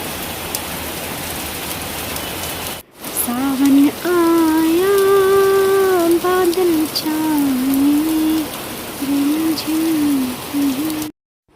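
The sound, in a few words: heavy rain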